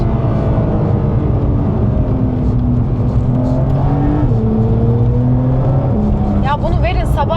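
Lamborghini Urus SE sports car driving on an asphalt track, its engine a steady loud drone with pitch rising and falling through corners, while someone talks over it continuously.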